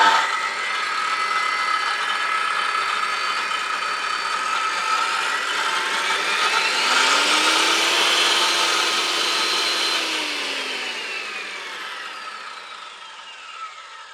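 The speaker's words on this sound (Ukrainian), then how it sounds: "Ось так доволі тиха вона працює." A Bosch GKS 65 GCE handheld circular saw running at its lowest speed setting, a fairly quiet steady motor whine with a gently rising and falling tone that fades toward the end, no talking.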